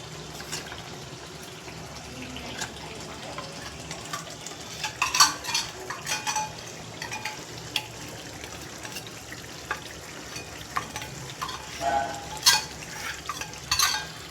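A spoon scrapes and clinks in a pan of paneer gravy for a Punjabi recipe, irregular stirring taps and knocks over a faint sizzling background, close and without speech.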